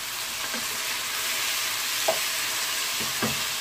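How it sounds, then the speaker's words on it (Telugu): Drumstick pieces fry in a pan for munakkaya pappu, a steady close sizzle broken by a few soft knocks from stirring. "ఇది కొంచెం వేయించుకుందాం, ఒక 2 నిమిషాలు వేయించుకుందాం."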